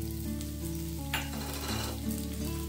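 A large onion fries in about half a ladle of oil, giving a soft continuous sizzle with a faint scrape or two, set against a steady low tonal hum.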